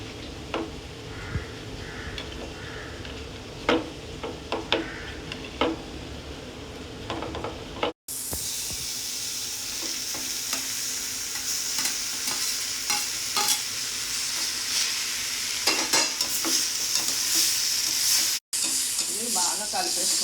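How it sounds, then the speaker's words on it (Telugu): Curry in a pan is mashed and stirred with repeated scraping and tapping of a utensil over a gentle sizzle, close and moderately quiet, with no speech. "మ్యాష్ చేసుకుందాం."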